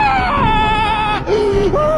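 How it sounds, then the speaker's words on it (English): A man screams in fear inside an abandoned church, a loud, strained, wavering cry that holds steady, dips briefly and then rises again. "the fear in his screams were real"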